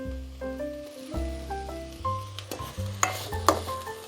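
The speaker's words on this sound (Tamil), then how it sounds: "ஒரு 2 நிமிஷம் நல்லா வதங்கட்டும்." Sliced onions and cinnamon bark sauté in a pan for a white chickpea kurma. A soft sizzle runs under steady tonal background sounds, with a few sharp stirring clicks near the end.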